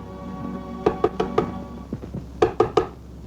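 Knocking on a wooden door at night, two bursts of three sharp raps each with a few softer taps between, heard close and fairly loud over a faint background.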